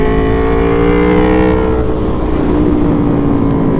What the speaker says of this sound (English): That shorty exhaust sounds so good.